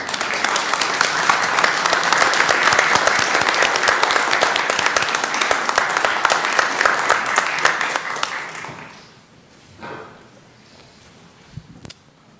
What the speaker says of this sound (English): because you deserve the applause.